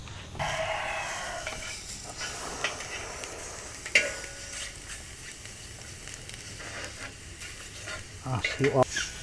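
Steady sizzling of chicken breast frying in a pan over low heat, with occasional stirring scrapes and clatter, continuous and fairly close.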